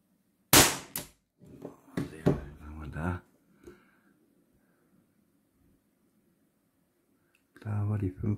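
A sharp, loud pop of a Walther PDP Compact T4E .43 caliber CO2 air pistol shot, followed by a few clicks and rattles, then a voice speaking briefly.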